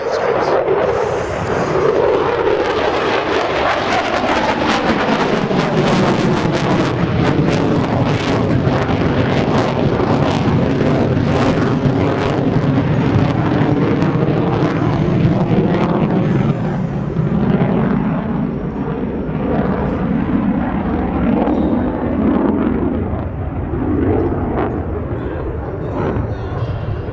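An F-18 Super Hornet jet roars through a demonstration at the Abbotsford airshow, a loud sustained engine rumble that swells and sweeps in pitch as the aircraft passes, with wind buffeting the microphone.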